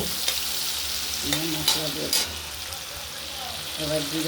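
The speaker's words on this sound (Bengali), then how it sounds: "টমেটোটা দিয়ে দিলাম টমেটোটাও একটু নাড়িয়ে নেব" Chopped tomato fries and is stirred in a hot pan for a taro and prawn curry. A steady, close sizzle carries a few quick scraping strokes and light knocks.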